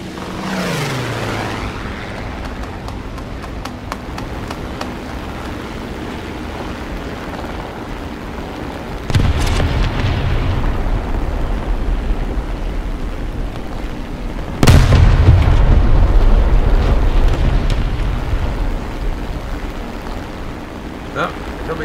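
Biplane engine drone in the War Thunder combat game, running steadily throughout, with two loud, deep bomb explosions booming partway through and near the end; a voice speaks over part of it.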